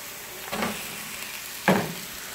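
Mushrooms and pasta sizzling in a pan, with two brief stirring scrapes over a faint steady fry, close and quiet, no voices.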